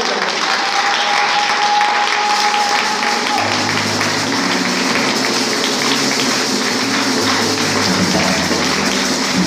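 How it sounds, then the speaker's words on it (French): A church congregation applauds their pastor, dense steady clapping from a large crowd filling the room throughout, with voices and faint cheers mixed in underneath. "j'invite l'église d'acclamer pour la gloire de Dieu"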